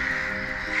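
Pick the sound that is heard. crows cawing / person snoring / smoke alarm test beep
crows cawing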